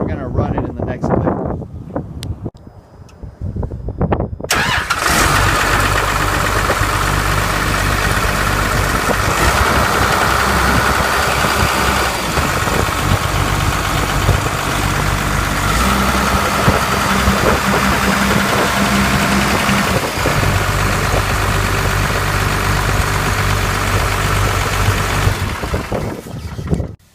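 A Komatsu PC220 excavator's diesel engine turns over after a few clanks and settles into a loud, steady idle that runs on with wind noise against the microphone.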